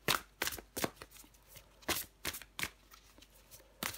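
Oracle cards are shuffled by hand in a series of sharp riffling bursts, close and fairly loud, with brief pauses between them and no talking.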